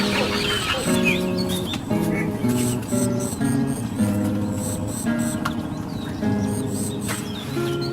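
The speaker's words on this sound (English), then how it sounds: "These little egrets have woken up." Young little egrets in a mangrove wetland at Xuan Thuy National Park, Vietnam, call steadily and hungrily for food, a dense overlapping chorus of harsh, raspy squawks and chatter at close range with no talk.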